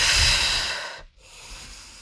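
A single long, breathy exhale during a bodyweight workout exercise is heard close up. It fades out, a brief silence follows, and then a softer inhale starts.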